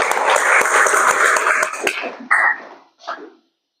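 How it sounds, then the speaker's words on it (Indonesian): Classroom applause for a student group, a dense burst of clapping that fades within two seconds, followed by a few scattered claps and a brief murmur. "tepuk tangan untuk kelompok 4"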